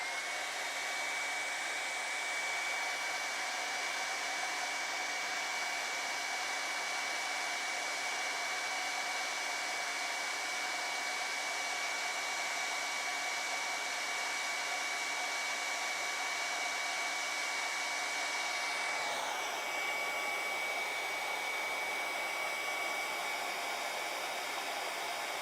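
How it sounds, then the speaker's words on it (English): A hair dryer blows steadily and loudly for the whole stretch, a constant whooshing hum with a slight shift in pitch near the end. "I'm going to use a hairdryer to dry it."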